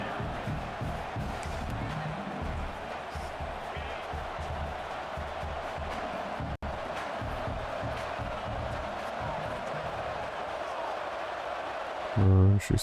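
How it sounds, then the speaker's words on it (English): A steady roar from a stadium crowd in a rainy high school football video game continues throughout, with someone talking over it and a brief louder burst near the end. "Crowd, why are you so loud when we're..."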